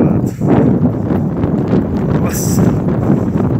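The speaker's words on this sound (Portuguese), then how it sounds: "Jesus amado, que vento gelado." A strong, cold wind buffets the microphone during a bicycle ride, loud and constant, with gusty roaring throughout.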